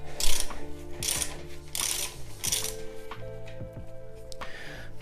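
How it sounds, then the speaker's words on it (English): Ratchet clicking in quick bursts while undoing a bolt at the top of a 1987 Kawasaki GPZ600R motorcycle fork, close and fairly loud, with metallic taps and clinks between the bursts and no talk. "So undo this bolt here to release the grip at the top."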